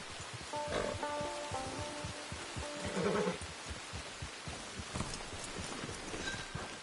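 Steady hoofbeats from Red Dead Redemption 2 online clop along at a walking pace over a low ambient bed, with a couple of faint animal calls and tonal notes mixed in.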